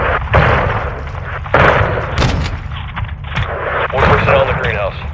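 Gunfire in Call of Duty: Modern Warfare 2 (2022) during the Close Air mission: loud, sharp bursts of shots in irregular clusters over a busy battlefield mix with shouted radio-style voices.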